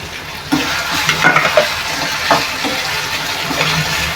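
Chopped onion fries in a pan for a dried Bombay duck masala, giving a steady close sizzle with a few soft stirring scrapes and light clinks over about four seconds.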